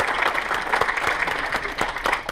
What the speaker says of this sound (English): I want to give one more round of applause to all of you guys being here today